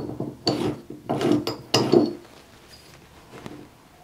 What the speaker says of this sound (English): hold it straight while you use the wrench to unscrew it